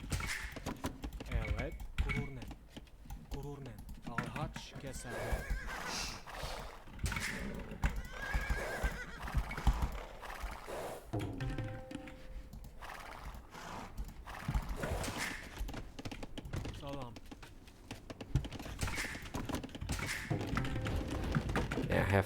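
Cavalry horses in an Age of Empires match on Arabia neigh and whinny repeatedly amid hoof clip-clops, with keyboard and mouse clicking and someone talking over much of it.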